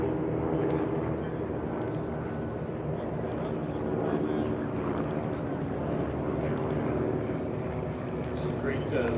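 Vintage L-5 and L-4 liaison aircraft make low passes down the runway at EAA AirVenture warbirds flying, their propeller engines droning steadily at loud, even strength throughout while announcer speech runs over the top.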